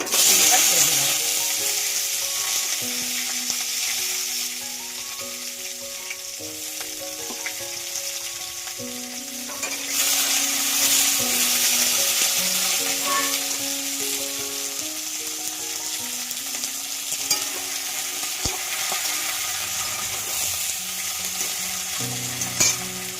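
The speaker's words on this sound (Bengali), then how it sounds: "আমি এবার কালো জিরে ফোড়ন দিলাম" Nigella seeds and flat beans fry in hot oil for a mustard-paste bean curry, with a continuous close sizzle and crackle that swells briefly midway, while melodic background music plays underneath.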